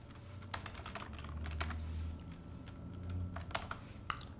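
Keys clack on a computer keyboard in short, irregular bursts of typing, quiet and close with no talk.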